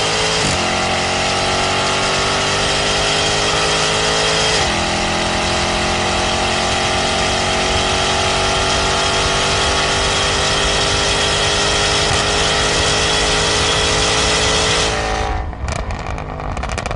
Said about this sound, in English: hammer the throttle a fair bit to hear the titanium exhaust do its thing